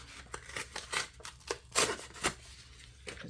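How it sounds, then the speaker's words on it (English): Paper torn out of a bound journal in several quick, crisp rips and rustles, close and fairly quiet, with no one talking. "Just gonna rip this"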